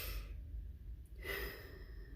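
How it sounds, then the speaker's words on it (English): A person demonstrates a quick energizing breath, one short sharp inhale followed by a longer, softer exhale, close and quiet. "Inhale fairly quickly, quicker than you usually do,"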